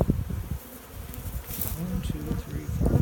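Honeybees buzzing around beehive frames of honey, a close, dense droning hum with a faint voice underneath.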